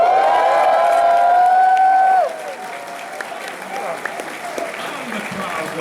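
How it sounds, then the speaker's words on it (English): A live audience at a convention panel applauds in a broad, dense wash of clapping. A held musical tone plays over the opening two seconds and then cuts off, leaving the clapping to carry on more quietly. "And the crowd goes wild."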